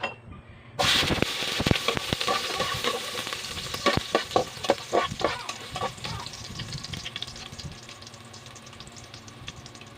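Ginger sliced and dropped into a hot oiled pan for salmon head sinigang with miso, a loud burst of sizzling followed by crackling spatter and stirring that gradually settles into a steady fry.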